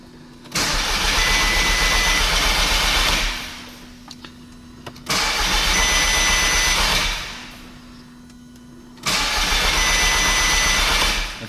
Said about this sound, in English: Just going to crank it up and build some oil pressure.